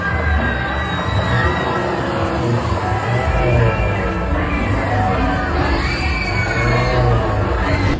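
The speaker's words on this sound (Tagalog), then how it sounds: "Kuha sa viral video na ito ang masayang hiyawan ng mga sakay ng frisbee ride na" Riders on a frisbee ride at a fair in Tagbilaran City, Bohol scream and whoop happily, a sustained mix of shrill overlapping shrieks and crowd cheering that rises and falls over eight seconds at close range.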